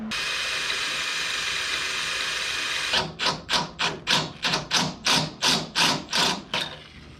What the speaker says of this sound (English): I think I can tap her on in. Tap, tap, tap-a-roo.